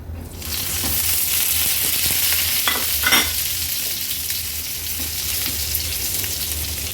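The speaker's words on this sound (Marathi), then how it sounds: "आता ही वांगी आपण तेलावर सोडूया." Stuffed brinjals slide into hot oil in a pan over a high flame, a loud, close, continuous sizzle and crackle with a few stirring scrapes along the way.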